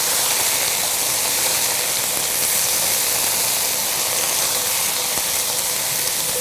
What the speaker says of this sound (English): you can hear that good sizzle when that juice hits the pan